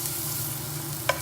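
Shallots cook gently in a pan over medium-low heat for risotto, a soft, faint sizzle with a low background hum and one brief utensil tap near the end.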